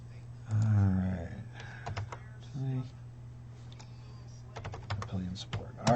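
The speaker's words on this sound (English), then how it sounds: "This is exciting watching me type." Bursts of clicky typing on a computer keyboard come in short runs between stretches of talk, close and moderately loud over a steady low hum.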